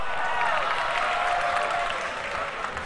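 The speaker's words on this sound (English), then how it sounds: "And the crowd can applaud." A crowd at an esports grand final, the MUFC versus LGD match at The Asia, applauds in a steady, dense wash of clapping that holds at full strength for about three seconds.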